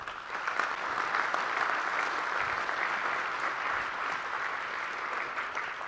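Sustained applause from a chamber of commerce annual meeting audience, a dense, steady roar of many hands clapping at constant loudness throughout.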